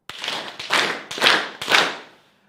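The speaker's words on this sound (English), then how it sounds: "Let's try 4 more claps" Four loud, close hand claps evenly spaced about half a second apart, each a sharp burst with a short ringing tail, fading to silence after the last; no voices.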